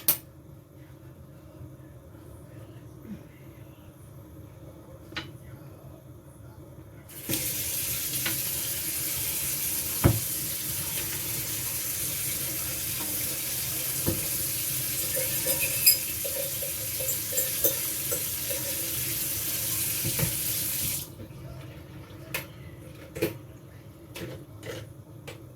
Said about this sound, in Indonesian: Nah, jadi di sini spagettinya udah mateng ya, guys. Tinggal Mbak Wulan tiriskan.